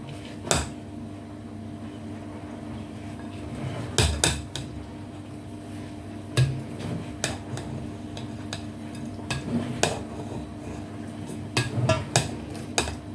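A spoon works bread stuffing mixture for a roast dinner around a bowl, giving scattered clinks and knocks against the bowl at irregular intervals over a low background hum.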